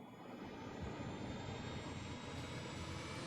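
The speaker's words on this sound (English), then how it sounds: "Why was there the sound of an airplane going by?" A propeller or jet airplane in the Scarlet Nexus video game drones steadily overhead at a distance, a broad, faint rumble holding level throughout with no talking.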